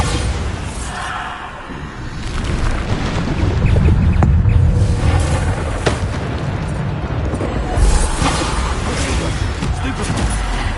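Bombarda explosion spells cast in Hogwarts Legacy, loud booming blasts that roll through a dense, continuous battle din of effects and music for about eleven seconds, with sharper bursts near the four-, six- and eight-second marks.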